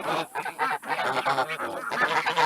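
Geese and ducks honk loudly and continuously, several birds calling over one another at close range.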